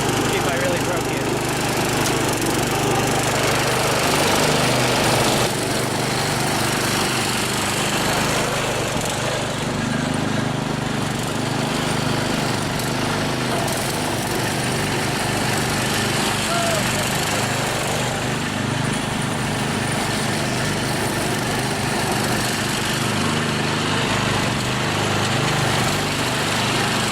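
A small off-road vehicle's engine drones steadily while it drives down a driveway in the rain, a constant near buzz with faint rattles and no pauses.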